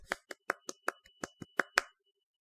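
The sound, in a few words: hand clap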